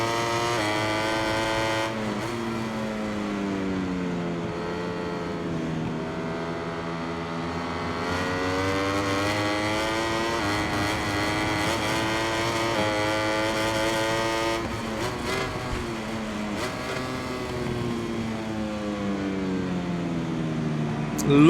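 Ducati motorcycle racing in MotoGP 21, a loud, sustained high-revving engine whine that rises and falls through gear changes and braking, with a voice talking over it.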